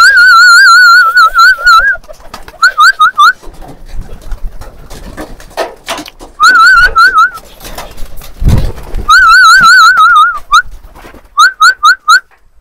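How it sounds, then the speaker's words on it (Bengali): Domestic pigeons gather near their loft for feeding, with repeated bursts of rising and falling whistling tones and coo-like calls recurring in clusters across the span, fairly loud and close, with no talk. "আমাদের সব কবুতর এসেছে এখন খাওয়ার জন্য"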